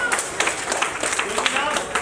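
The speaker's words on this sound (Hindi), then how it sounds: "तालियां बड़ी मजबूत हो रही है।" Steady applause from a crowd at a first birthday party, dense clapping filling the whole stretch with no gaps, with a voice faintly mixed in.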